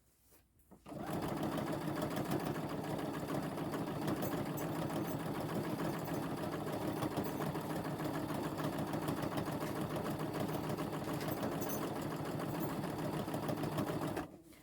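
A sewing machine stitches a pillow seam toward a pin, running in one continuous, steady, close mechanical whir for over thirteen seconds before stopping.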